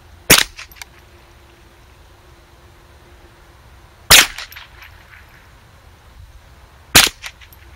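Three sharp, loud gunshots at a range, widely spaced and aimed at a target with a Barska holographic reflex red dot sight mounted, each a crisp crack with a short ringing tail and quiet between.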